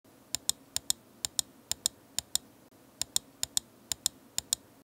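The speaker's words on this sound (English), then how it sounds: "The main left and right click on the front of the mouse is nicely placed and large. They're very clicky and loud, which you can hear here." Loud, sharp left and right button clicks from a DeLUX Seeker M618XSD ergonomic mouse, about twenty crisp evenly spaced presses in steady pairs and runs, close up over a quiet background.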